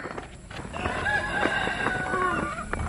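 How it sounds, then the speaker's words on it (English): Chickens cluck and a rooster crows over a steady farmyard hum in the morning, several birds calling at once, fairly close. "you chickens are also happy this morning"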